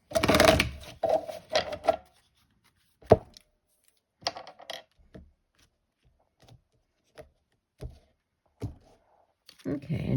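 A deck of tarot cards is shuffled in a few quick riffling bursts, followed by scattered soft taps and card handling in a quiet room.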